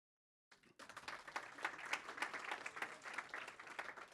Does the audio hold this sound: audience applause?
yes